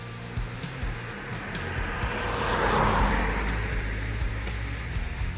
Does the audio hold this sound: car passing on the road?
yes